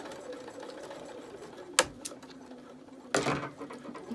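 A sewing machine stitches down the pleats of a fabric mask, a steady close mechanical hum broken by two sharp clunks as the stitching reverses.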